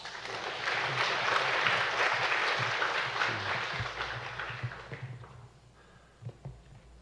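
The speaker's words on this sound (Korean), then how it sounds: "나오실 때 우리 큰 박수로 환영하겠습니다." A church congregation at a Sunday afternoon service claps to welcome a pastor to the pulpit, a broad steady applause that swells for several seconds, then tapers to a few scattered claps and footsteps.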